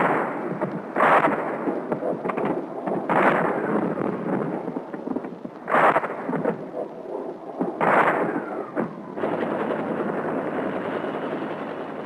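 Heavy, distant explosions from aerial pinpoint bombing along the canal front, several booming blasts rising out of a continuous low rumble, echoing and rolling away between impacts.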